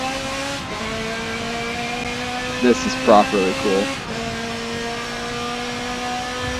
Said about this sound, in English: The transmission shift sound effects are definitely off.